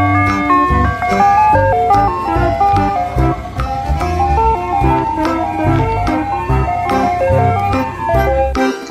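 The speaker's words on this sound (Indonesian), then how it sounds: "Yang ini ada mobil es krim." A toy ice cream truck plays its looping jingle, a bright, loud electronic melody of repeated notes running continuously from start to finish with a little low rumble beneath.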